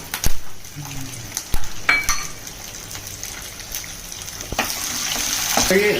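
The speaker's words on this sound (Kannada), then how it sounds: "1 ನಿಮಿಷ ಸ್ವಲ್ಪ ಎಣ್ಣೆಯಲ್ಲಿ ಫ್ರೈ ಆಗಿಲ್ಲ. ಇದಕ್ಕೆ ಫ್ರೈ ಆಗಕ್ಕೆ ಬಿಡಬೇಕು 1 ನಿಮಿಷ" Garlic and mustard seeds fry in hot oil in a heated pan, giving a soft steady sizzle broken by sharp clicks and clatters of stirring, with a few faint voice sounds in the background.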